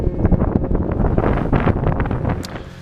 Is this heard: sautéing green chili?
no